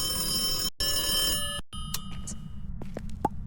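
A telephone bell rings with a steady tonal trill, broken by two brief dropouts, then fades into scattered clicks and soft noise, heard alone without talk.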